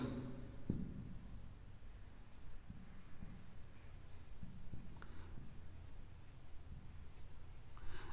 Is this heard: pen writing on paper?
yes